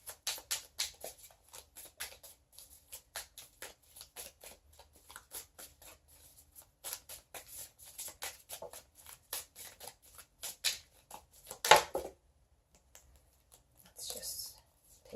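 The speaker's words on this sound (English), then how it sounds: "that's just a sloppy shuffle" Soft, quiet riffling and sliding of tarot cards in repeated bursts, close by, with a few louder snaps and pauses between shuffles.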